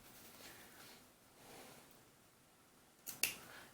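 Scissors snipping the seam allowance around the armhole of a small fabric doll blouse, heard as a couple of quick, crisp cuts close by after a stretch of quiet handling noise.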